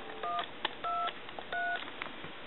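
A repaired Duck telephone dials numbers, sending three short touch-tone beeps at a moderate pace over a faint background hiss.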